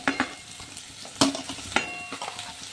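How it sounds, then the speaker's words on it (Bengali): Onions and green chillies hiss in hot oil for a veg momo filling, a close, busy sizzle with crackling spikes and clattering stirs of a spoon against the pan. "তেলটা গরম হয়ে গেছে, তেলের মধ্যে আমি দিয়ে দেবো পেঁয়াজগুলি"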